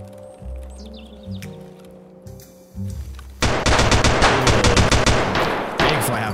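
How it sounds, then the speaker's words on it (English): Rapid bursts of gunfire in an online shooter game rattle out loud and close, one player firing in quick repeated shots after a quieter stretch of game ambience, with faint chirps in the background. "that sounds like a scab getting shot then by a player"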